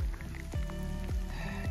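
Steady rain falls outdoors on a cold, freezing day along a wilderness route, a continuous wash of patter with a few sharper thumps as gusts or heavier drops hit nearby.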